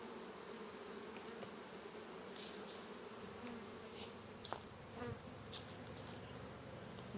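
Honey bees buzzing around an open, recently re-queened hive, a steady close hum of many insects with a few individual bees passing louder near the microphone.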